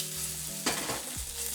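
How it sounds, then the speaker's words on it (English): Udon stir-fry vegetables sear in a hot wok, a steady close sizzle with a sudden louder hiss burst as food is tossed, no talking. "Just going to let those get in there, get a little bit of a sear on them"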